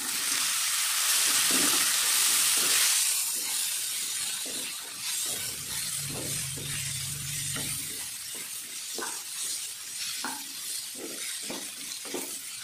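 Beans sizzling in a pan with onion paste, a loud hiss at first that settles into a softer crackle, with repeated clinks and scrapes of stirring.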